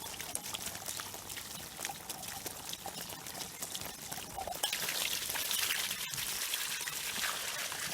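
Water pours steadily from the outlet of a solar-powered water pump running off solar panels, a continuous splashing stream that grows louder and brighter midway through, with no talk over it.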